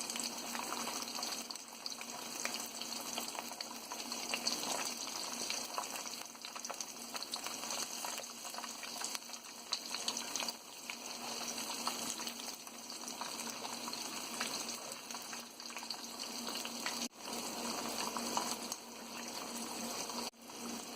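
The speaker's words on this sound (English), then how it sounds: "So fry it with medium flame." Semolina-coated tiger prawns fry in a pan over a medium flame, a constant soft sizzle and crackle of hot oil that stays even and quiet throughout, with a couple of faint clicks and no talking.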